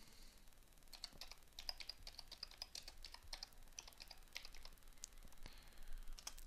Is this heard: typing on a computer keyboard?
yes